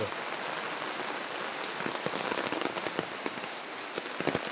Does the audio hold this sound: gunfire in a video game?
no